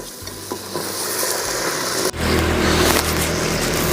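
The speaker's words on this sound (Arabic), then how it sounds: "وهاي دور البصل، وهي تحريكة خفيفة" Onions sizzle loudly in a pan while being lightly stirred, a dense, close frying hiss with a few scraping knocks and a sudden louder surge partway through, with no talking.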